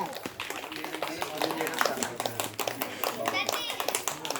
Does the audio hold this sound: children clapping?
yes